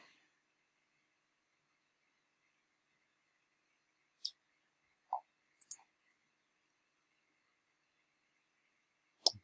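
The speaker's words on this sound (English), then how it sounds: "I'm just going to go right click and paste." Computer mouse clicks at a desk, a few sharp isolated clicks spaced over several seconds against near silence, with a closer double click and a final click at the end.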